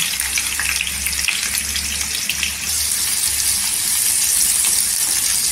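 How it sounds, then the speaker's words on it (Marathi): Chopped onion fries in a spoonful of oil in a pan for an egg-in-curd recipe, giving a steady sizzling crackle with a low hum underneath and no talking. "तर इथे 1 चमचा तेल टाकलेला आहे। तेलावर आहे ना इथे कांदा टाकलेला आहे।"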